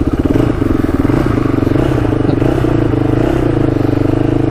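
A Polaris Predator 500cc quad's engine runs loud and steady on a first ride, a continuous throbbing drone with rattling clatter from the machine, no talk over it.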